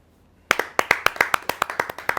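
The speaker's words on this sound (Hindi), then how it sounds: "एक बार उनके लिए स्वागत कीजिए, तालियां बजाइए" An audience at a Hindi kavi sammelan poetry gathering claps after a brief quiet moment, a crisp run of about a dozen distinct claps at a steady pace, fairly close and without talk.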